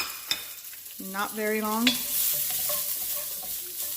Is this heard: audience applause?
no